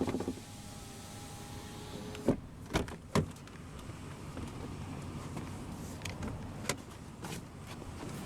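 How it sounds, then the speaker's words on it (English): Driver's power window rolling down on a 2016 Ram 2500 SLT Crew Cab truck, a faint, steady motor hum punctuated by a few sharp clicks and thumps from the door. "now we'll roll down the driver's window"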